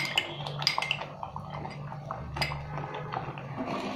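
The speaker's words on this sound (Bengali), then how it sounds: "আমি আবারও বাটিটার চামচের সাহায্যে নাড়াচাড়া করে নিয়ে কড়াইয়ের মধ্যে ঢেলে দিব।" A spoon clinks and scrapes around a bowl, stirring a pre-mixed arrowroot slurry for homemade tomato sauce. The taps are light, close and irregular, with no voices.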